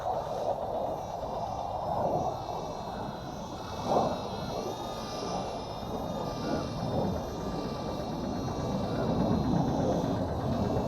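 A Senxiang S49 micro drone flies outdoors with a steady, high-pitched whirring buzz of small propellers that holds throughout, swelling slightly at moments like a jet taking off, with no talking.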